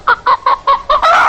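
Barnyard chicken clucks in a rhythmic series of five short, evenly spaced clucks ending in a longer drawn-out squawk, close and loud with nothing else audible.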